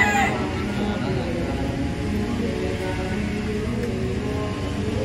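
Rooster crowing and clucking in the grounds of a Vietnamese temple, a loud continuous call near the listener with a steady outdoor background.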